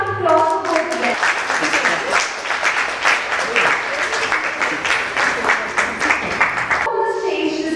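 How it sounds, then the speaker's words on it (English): A full audience applauds at a book release event held by a publishing house, steady loud clapping filling most of the clip, with a voice speaking briefly before and after it. "A huge round of applause for both of them."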